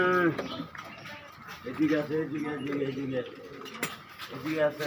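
Homa Sirajee pigeons coo in soft, repeated bursts on a pigeon farm, heard close by while people talk over them.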